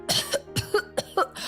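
A woman coughs in a quick series of four or five harsh, close bursts.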